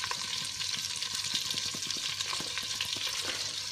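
A pork roast sizzles and fries in a pan, a continuous close crackling hiss with small irregular pops throughout and no voices.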